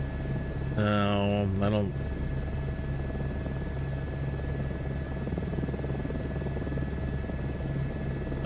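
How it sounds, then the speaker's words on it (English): Steady helicopter rotor and engine drone from a flight simulator game fills the whole stretch at even loudness, with a brief spoken reply near the start. "I'm not going to give up flying the helicopters because they're just too hard."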